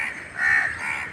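One crow caws nearby in a short, hoarse call that swells in the middle, heard alone and clearly.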